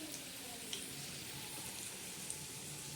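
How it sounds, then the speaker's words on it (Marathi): Green chillies coated in gram flour batter frying in hot oil give a steady, close crackling sizzle with a few faint pops, heard alone without talk. "तर या बघा, माझ्या अशा खमंग आणि खरपूस मिरच्या कशा छान अशा मस्त भाजत आहे."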